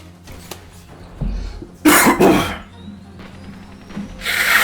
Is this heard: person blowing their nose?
yes